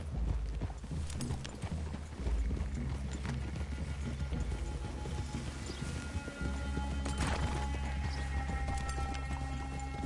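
Horse hooves clip-clop in Red Dead Redemption 2 as riders approach a clearing, a steady rhythmic trot that carries on throughout under game ambience, fairly close, with a brief whinny or snort along the way.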